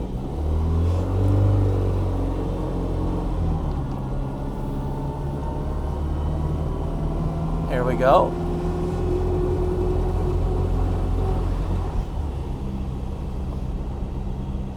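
A 1990 Rover Mini Cooper turbo engine idles with a steady low rumble while warming up with the choke partly out, revving briefly partway through, while someone says a few words over it.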